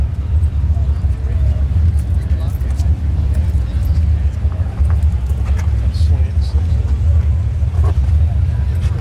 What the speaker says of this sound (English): Look at that big pipe blaring out of you.